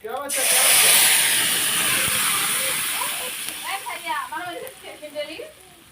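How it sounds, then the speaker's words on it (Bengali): Taro and ground lentil paste dropped into a hot pan of fried ingredients for a village-style taro-leaf dish, a loud burst of steamy hiss that slowly fades while a voice talks over it. "এখন আমি কচুটা দিয়ে দিলাম"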